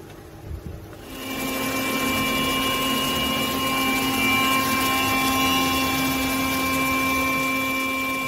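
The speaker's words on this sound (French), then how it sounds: "Voici quelques pièces en cours de découpe." Old MultiCam CNC machine cutting HDPE and Corian parts: after a brief quiet start it spins up into a steady loud mechanical whine with sustained tonal hum and hiss, continuous to the end with no talking.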